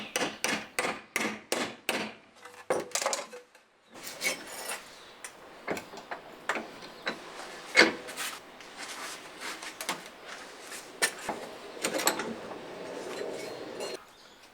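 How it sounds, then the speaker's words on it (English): Metal bracket being bent in a vise with assorted hand tools, heard as a string of sharp rasping and clanking bursts, rhythmic at first and then irregular, close and fairly loud with no voices. "I used my vise and a variety of tools to create the bends"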